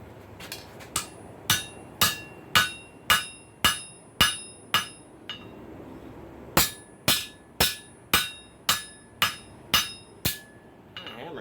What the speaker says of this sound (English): we're going to forge that coal rake out, and we're going to use the prize hammer to do it